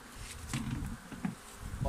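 Honey bees buzzing around hives during a July honey harvest, a close, steady droning hum with wingbeats passing near the microphone over about two seconds.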